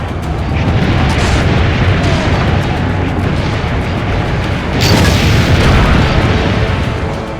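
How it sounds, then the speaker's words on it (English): Booming cannon fire in the Assassin's Creed Brotherhood video game on PS3, a dense continuous rumble of blasts and battle noise that swells louder near the end, with no clear speech. "Load the cannon."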